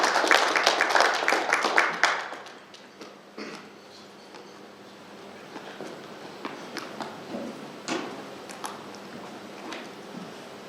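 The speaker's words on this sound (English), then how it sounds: "Please give him a round of applause." Audience applause at an investment and trade forum greets a speaker coming on stage, a loud burst of clapping for about two seconds that thins into scattered claps and faint room noise.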